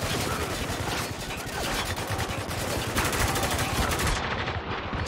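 Relentless automatic gunfire in the shooter game Spec Ops: The Line: dense, overlapping bursts of rifle and machine-gun shots rattle loudly and continuously throughout.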